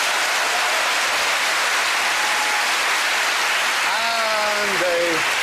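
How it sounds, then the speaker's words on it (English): A studio audience applauds on a comedy panel show, a dense, steady patter of clapping throughout, with a rising electronic tone sweeping in near the end. "So give a big hand for Sue Perkins."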